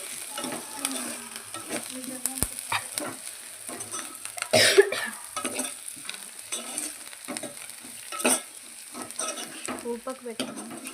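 A person off to the side coughs over a pan of curry leaves frying in oil for chicken curry. The coughs come as a few short, loud bursts over a steady close sizzle and light stirring.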